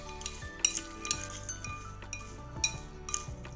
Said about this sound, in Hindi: इन सबको अच्छे से मिक्स कर देंगे।